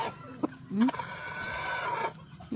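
Chickens cluck in short bursts close by, with a voice speaking over part of the barnyard noise.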